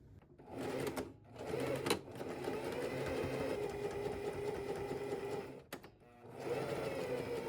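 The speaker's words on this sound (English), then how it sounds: "you want to sew all the way down at a 1/4 inch right here" Sewing machine running a quarter-inch seam down a skate cover, close and steady with a fast mechanical hum, broken by two brief pauses.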